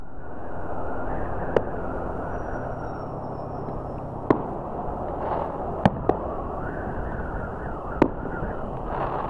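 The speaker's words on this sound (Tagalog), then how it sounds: "Ayun o, ayun, nag-fireworks na dito." Distant fireworks pop and crack several times at irregular intervals over a constant low rumbling background, heard during a motorcycle ride in North Luzon.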